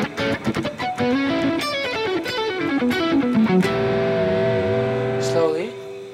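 Electric guitar plays a distorted lick from a song: a quick run of descending notes that settles into sustained ringing tones, close and alone.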